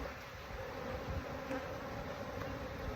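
Honey bees buzzing at an open hive during an inspection, a faint steady hum that continues without a break.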